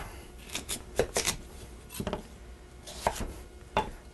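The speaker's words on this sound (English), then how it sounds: "Just going to chop these up." A knife chops turnip on a cutting board in a home kitchen, with about half a dozen crisp, separate thwacks spread unevenly over a few seconds and quiet pauses between them.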